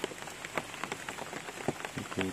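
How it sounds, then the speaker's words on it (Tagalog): Rain patters on surfaces outdoors, a steady close hiss broken by irregular louder drips and splats throughout, with no talking. "Kahit na ulan."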